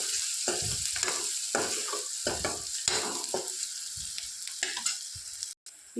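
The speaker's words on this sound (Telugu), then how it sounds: "ఒకసారి కలుపుకుందాం." Onions and turmeric with curry leaves fry in a pan while a spoon stirs them, giving a constant loud sizzle broken by rhythmic scraping strokes, close up and without any talk.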